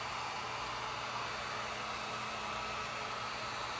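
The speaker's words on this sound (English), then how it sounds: "take your heat gun and slightly heat" A heat gun on its low setting warms the factory mirror housing of a 2002–07 Subaru WRX/STi, giving an even, steady blowing hiss that stays constant throughout, close and moderately quiet.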